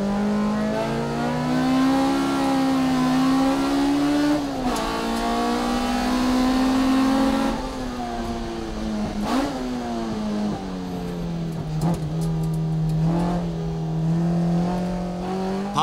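Race car engine revving hard as it accelerates out of a corner during a time attack lap at Tsukuba circuit, a high-revving naturally aspirated 10,000 rpm engine, loud and close with a steady rising pitch and brief dips between gears.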